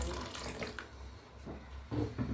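More water poured into a simmering chicken curry in a home kitchen, short splashing pours that fade briefly and return louder near the end.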